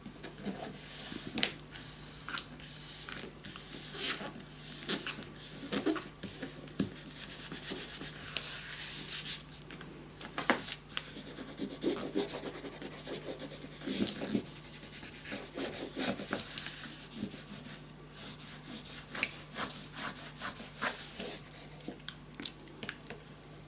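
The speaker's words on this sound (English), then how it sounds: "burnish everything nice down, and at the end we're gonna burnish down the edges as well" Paper being burnished down in a scrapbook mini album, a soft, close rubbing and scraping that comes in repeated short strokes with small taps in between, over a faint steady hum.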